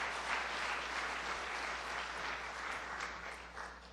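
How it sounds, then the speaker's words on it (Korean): Applause from a church congregation for the musical accompanists during a Genesis sermon service, a steady wash of many hands clapping that fills the whole stretch at moderate, fairly distant level without voices. "반주해 주시는 귀한 분들 한번 박수 한번 해주시죠"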